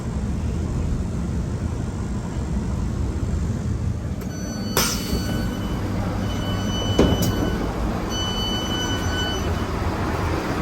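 A train rolls toward Newport station by a low-tide estuary, with a steady low rumble of wheels and motors, two sharp metallic clanks partway through, and faint brake squeals near the end.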